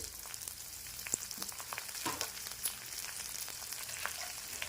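Chopped onion with a little turmeric and green chili frying in a pan, a continuous close sizzle with scattered sharp crackles and pops throughout, no talking.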